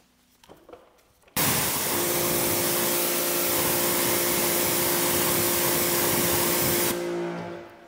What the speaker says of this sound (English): I guess it would help if I turned the pressure washer on.